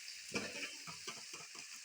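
Food being sautéed in a pan, a faint low sizzle with soft bursts of stirring as the mixture is worked around, quiet and close.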